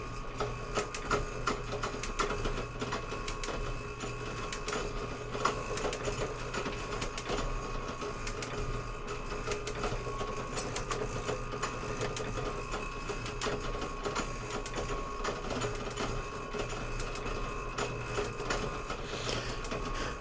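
Steady, faint mechanical clatter from a 7-inch Logan metal shaper squaring up stock, its ram stroking back and forth in an even, repeating rhythm with a constant motor hum underneath, no talking.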